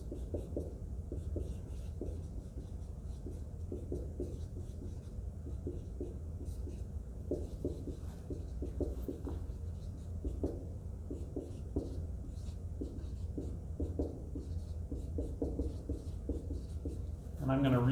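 Pen or marker scratching steadily across a surface while a balanced chemistry reaction is written out, with short strokes and taps in a continuous close rhythm over a low background hum.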